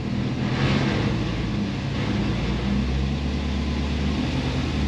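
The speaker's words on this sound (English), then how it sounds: "when I rev the engine up a little" A 1955 Chevy truck with an LS-swapped engine runs in a steady, dense roar with a low rumble, held at a fairly constant level and slightly raised, close by with no talking.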